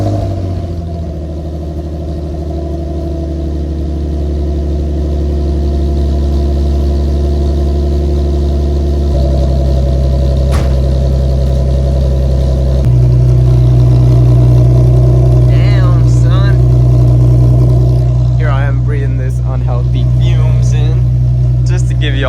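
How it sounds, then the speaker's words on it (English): A Nissan R34 GTR engine idles loudly and steadily up close after a cold start, its low rumble rising in pitch partway through, with someone talking over it toward the end. "Give you all the little cold start clip"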